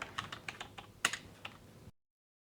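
Soft, irregular keystrokes on a computer keyboard while commands are entered at a command prompt: about a dozen quiet clicks with a couple of sharper taps, then silence.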